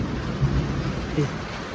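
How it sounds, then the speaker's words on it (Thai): Heavy rain pours down on a rural house in a downpour, a dense steady hiss close by with a couple of low rumbling swells and no clear talk on top. "ฝนเทลงมาแบบหนักเลยครับ"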